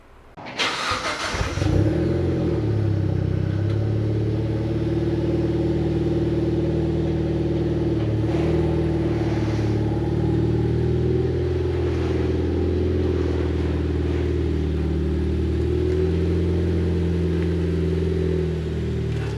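A car engine cranks and starts, then runs at a steady, close, low rumble with slight shifts in revs as the car reverses out of a garage.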